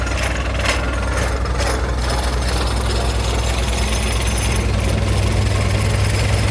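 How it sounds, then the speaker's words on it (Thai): A two-stage hydraulic gear pump drives a water-well drilling rig powered by a Nissan engine, making a loud continuous mechanical grind with a deep steady hum and rattling, clattering texture, without talk. "ปั๊มใช้ปั๊มไฮดรอลิก แบบปั๊มเฟือง"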